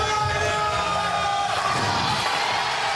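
Bowling crowd at the 2019 PBA Playoffs cheering and yelling loudly, a dense, steady roar of whoops and shouts filling the hall for a few seconds without a break.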